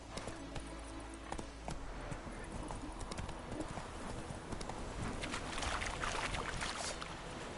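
Roach, a horse in The Witcher 3, gallops with rapid rhythmic hoofbeats over a rushing, noisy game soundscape, growing louder toward the end, with a brief voice in the mix.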